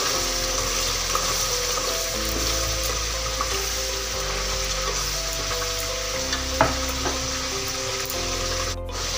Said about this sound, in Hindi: इसको अच्छे से भूनेंगे, अच्छे से भून लेते हैं।